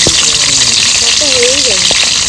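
A large catla fish head frying in hot oil, producing a loud, dense, continuous sizzle up close, with a voice speaking briefly over it.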